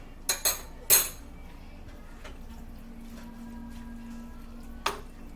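A spoon clinks sharply against a pot a few times while spices are stirred into a rigatoni sauce, followed by a quiet stretch with a faint hum and one last clink.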